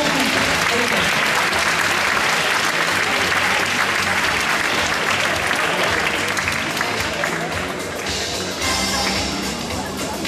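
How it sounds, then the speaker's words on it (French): A large audience claps loudly and steadily, welcoming panel guests to a school promotion ceremony, the dense applause holding for about ten seconds before easing slightly near the end. "Vous pouvez les applaudir."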